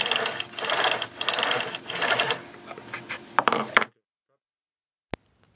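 On a Libreflip book-scanner build, a motor mount is tightened with quick ratcheting, whirring mechanical bursts and a few sharp clicks, close and moderately loud, then silence with one last faint tap.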